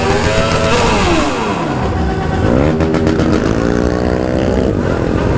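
A BMW S1000RR motorcycle revs hard and close, its engine pitch sweeping up and down through several sharp throttle blips in a loud, continuous burst with no talking.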